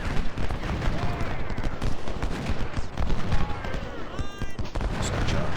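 Dense, continuous crackle of massed infantry musket volleys from the Ultimate General: Civil War battle game, loud and rolling throughout, with someone talking over it.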